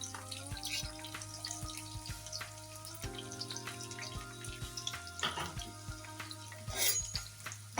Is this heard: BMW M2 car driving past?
no